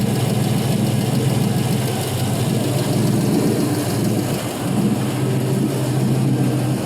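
A 5.3L LM7 V8 fitted with an LS1 cam runs on an engine test stand, holding a loud, steady, deep rumble with no pauses throughout.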